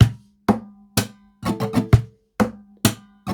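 Percussive acoustic guitar pattern mixing a deep bass hit, knocks on the guitar body, a slap and a muted strum, about eight sharp close hits in a steady groove with no voices.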